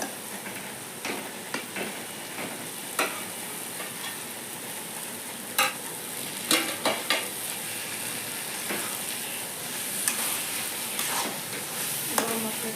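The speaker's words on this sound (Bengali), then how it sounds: "দিয়ে ভালো করে মিক্স করে নিচ্ছি গরম মশলা দিয়ে ভালো করে মিক্স করে নিচ্ছি" Stirring banana flower curry in a pan with garam masala paste gives a continuous sizzle and soft scraping, with intermittent sharp clicks of the spoon against the pan.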